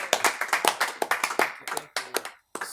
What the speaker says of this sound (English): Want to do one more clap for Sam Stucky?